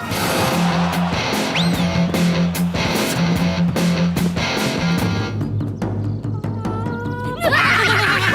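Cartoon horses whinny and neigh, with a rising squeal and snorting over bouncy music and hoof-like thumps.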